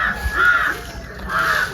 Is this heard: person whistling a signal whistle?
no